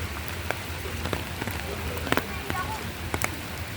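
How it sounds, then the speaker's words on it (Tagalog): Rain falling steadily outdoors at an eco park, a broad continuous patter with scattered sharper drops, while people talk over it. "Umuulan na kasi guys."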